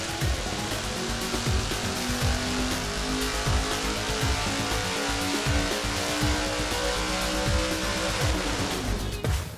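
A naturally aspirated, carbureted thousand-horsepower engine on a test stand roars continuously and loudly, with a dense steady drone and repeated rising pitch sweeps throughout.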